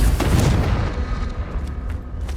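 The Confringo spell explosion in Hogwarts Legacy lands as a deep, booming blast with a sharp onset, then a rumbling tail that fades over a couple of seconds.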